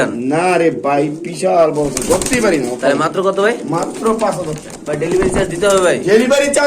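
Pigeons at a pigeon farm coo in repeated, close, rolling calls that overlap continuously, with people talking now and then.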